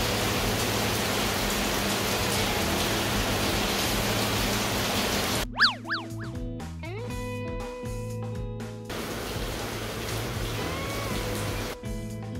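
Heavy, steady rain pours down on a campsite at a Kashima-nada seaside park in Chiba, a dense constant hiss filling the scene, briefly broken midway by a burst of synthetic tones before the downpour returns.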